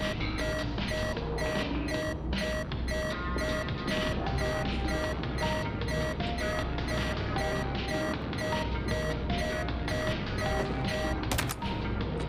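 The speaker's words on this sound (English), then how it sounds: "I'm guessing that's my alarm." An alarm clock in the video game M.O.L.E. rings with a fast, repeating electronic beeping that pulses evenly for several seconds over dense, loud game music and noise.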